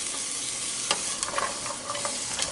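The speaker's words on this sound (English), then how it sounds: "And we're just going to sweat these onions. Move that spatula." Onions sweat in a pan with a bright, hissing sizzle while a spatula scrapes and stirs them in short, irregular strokes, close and fairly quiet with no voices.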